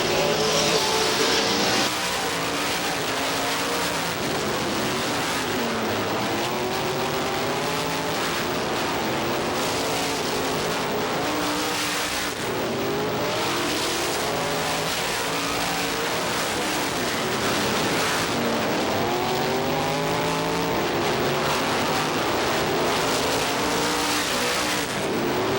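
Supermodified race cars roar around the Star Speedway oval, loud engines howling and shifting pitch as they pass one after another, with a continuous dense drone throughout and no talking.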